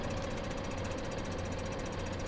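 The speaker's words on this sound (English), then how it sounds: "Here we are back at the FENDT tractor, which is desperately requiring this fuel." A Fendt tractor engine idles in Farming Simulator 2015 with a steady, continuous mid-pitched rumble and a faint rhythmic knock, holding level throughout with no talking.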